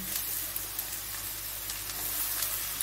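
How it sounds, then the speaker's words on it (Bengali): Chopped bottle gourd (lau) hitting hot oil in a pan for lau chingri, a loud, steady, hissing sizzle that holds evenly throughout with faint crackles and no talking. "এবারে আমি লাউটা দিয়ে দিচ্ছি"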